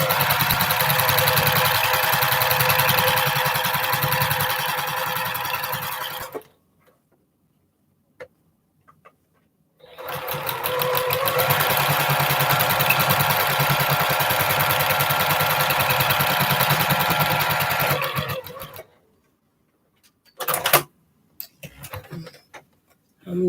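A sewing machine stitches quilt blocks in long steady runs, whirring rapidly close up, stopping for a few quiet seconds between seams and then starting again, with a few short bursts at the end.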